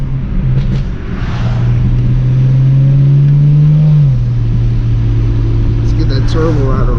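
A tuned car with catless downpipes revs up hard through the gears, its engine note climbing steadily before dropping at a shift, loud and close from inside, with people talking over it.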